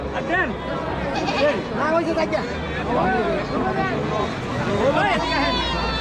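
Several goats bleat repeatedly amid a crowded hubbub of chatter and voices at a livestock market, busy and close, with calls overlapping the babble.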